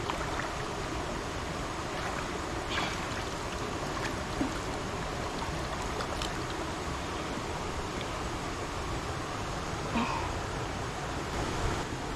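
River water flows in a continuous rushing wash throughout, with a few faint knocks and splashes rising above the steady noise as crab traps are set.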